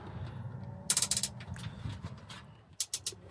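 A ratchet tightens a car part in a garage, two quick bursts of sharp clicking, five or six clicks early and three more near the end, close up over a low background hum, with no talk.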